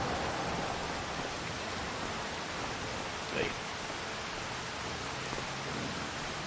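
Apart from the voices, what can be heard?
rain in the video game Farming Simulator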